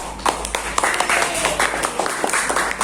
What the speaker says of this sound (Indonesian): tepuk tangan dulu buat kelompoknya Yogi.